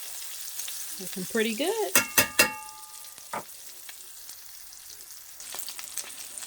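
Pork chops sizzle faintly in a pan on the stove, with a steady low frying hiss. Brief clattering handling sounds mid-clip as they are turned, and a person speaks briefly over it.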